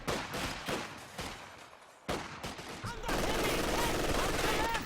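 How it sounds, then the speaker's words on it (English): Machine gun fire in Company of Heroes 2, a 1v1 match: rapid rattling bursts of automatic fire, intermittent at first, then a sustained stream of shots amid battle noise. "Very aggressive machine gun play here by vbmars."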